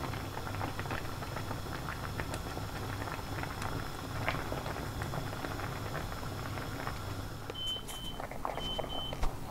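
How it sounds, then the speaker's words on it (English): A pot of pineapple wine mixture with sugar simmers with a soft, continuous bubbling patter, close and fairly quiet, with a couple of brief electronic beeps near the end. "It's been simmering now for 25 minutes."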